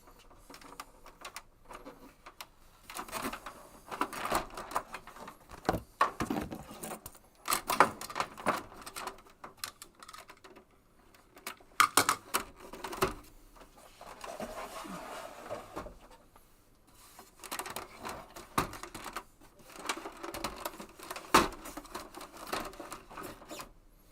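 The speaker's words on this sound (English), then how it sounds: "So there is the printer." A printer runs indoors in repeated mechanical bursts of clatter and whirring, with short pauses between passes, fairly close and moderately loud.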